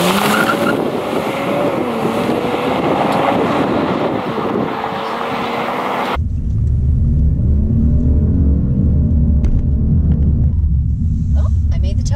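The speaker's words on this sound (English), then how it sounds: "Oh, I made the tire squeal." A Kia Stinger on a race track, a steady loud engine drone and tire squeal under wind noise, then a cut to a deeper, lower rumbling engine with scattered clicks.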